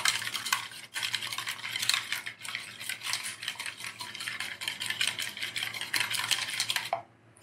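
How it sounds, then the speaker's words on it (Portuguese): An egg is beaten vigorously with a whisk in a bowl, giving a rapid, steady metallic clatter and scraping close by for several seconds before stopping abruptly. "Pronto, o ovo bem batido."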